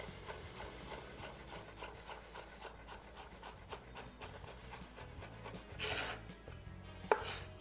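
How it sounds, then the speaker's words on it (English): A knife chops food thinly on a cutting board in a home kitchen, a quick steady run of soft rhythmic taps, close and continuous, with a sharper knock near the end and no talk. "So slicing one way, as thin as we can, let the knife do the chopping."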